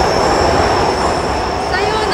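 A Saint Petersburg metro train at Primorskaya station, running through the underground, giving a loud steady rumble with a high squeal of wheels near the end.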